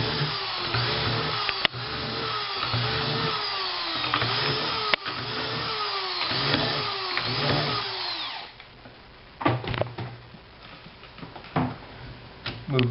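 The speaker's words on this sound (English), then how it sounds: "So then again, we just have to drill the proper holes." A power drill bores binding mount holes into a race ski, whining in repeated close bursts for about eight seconds, then stopping, followed by scattered clicks and handling knocks.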